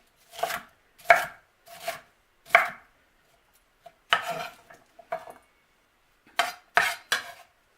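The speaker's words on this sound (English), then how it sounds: "Now your peppers, you want kind of chunky. Just a rough chop." A knife rough-chops bell peppers into chunky pieces on a cutting board, giving about a dozen crisp, close thuds in uneven bursts with short pauses between them.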